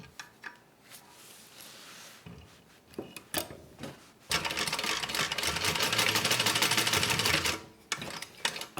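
A sewing machine stitches zipper ends closed, with a few short bursts and pauses before a long, fast run of rapid mechanical clatter, then brief stops and restarts, close and clear.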